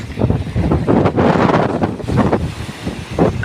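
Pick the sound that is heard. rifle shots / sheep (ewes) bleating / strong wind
strong wind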